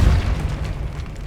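A Repulsor spell blast in Hogwarts Legacy lands as a short, heavy boom with a deep low thump that rumbles briefly and decays.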